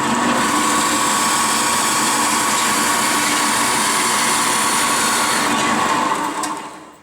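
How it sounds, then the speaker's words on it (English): A deburring tool works the center hole of a Delrin plastic washer, giving a steady, loud, hissing grind that runs without pause for about six seconds before tapering off. "So it's certainly a piece of cake to get the burrs out of the center."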